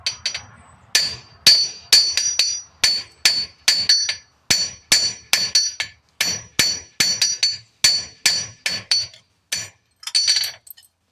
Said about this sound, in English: Make sure not to have your workpiece come off your anvil.